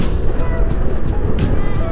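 A Zero DSR electric motorcycle hums while being ridden, a steady close whine mixed with road and wind noise, loud and continuous over two seconds.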